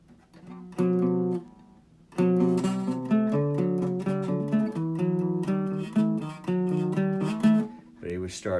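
A guitar repeats a pattern of two-note chords, each pair ringing out clearly in a steady rhythm. After a short opening phrase and a brief pause, the pattern continues unaccompanied, with no talking.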